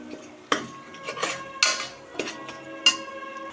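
Spoon scraping and clinking against a cooking pot while yogurt and biryani masala are stirred in for rajma pulao, several irregular knocks and scrapes over about three seconds, fairly close, with no talking.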